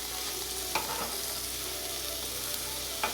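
Chicken pieces flipped on a Chefman indoor smokeless grill give off a steady, close, loud sizzle, broken by a few brief clicks from the turning tool.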